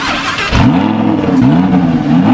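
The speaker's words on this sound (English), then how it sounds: "This is what you hear when the car just comes on." A Lamborghini Aventador's engine fires into life with a sharp, loud burst, then settles into a strong, throbbing idle whose pitch rises and falls in waves, close and steady to the end.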